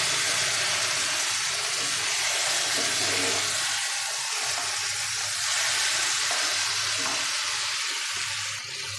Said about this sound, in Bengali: আলু বেগুন ভাজা একদম কমপ্লিট।